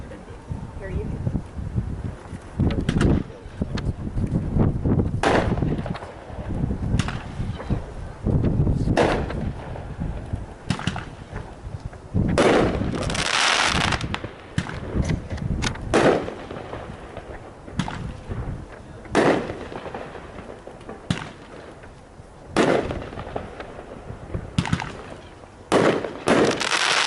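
Fireworks from a consumer assortment fired at a Kansas demo night crack and boom in a long irregular volley of sharp loud bursts, some clustered in rapid strings, with crowd voices under the blasts.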